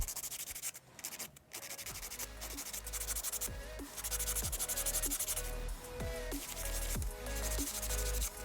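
An acrylic nail tip buffed to roughen it, a steady close scratchy rubbing of a buffer on the nail with rapid repeated strokes, continuous and fairly loud with no talking.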